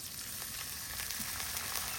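Garlic paste sizzles in a frying pan with fried onions, a faint, even crackling hiss with small pops throughout.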